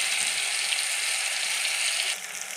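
Whole white cumin and spices dropped into hot oil, producing a loud, dense, even sizzle that holds steady and then eases slightly near the end, close up.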